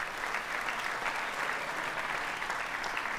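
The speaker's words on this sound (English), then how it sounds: "a big round of applause" Steady, dense applause from a high school concert band audience at an honor band festival, filling the hall evenly and continuously without any talk over it.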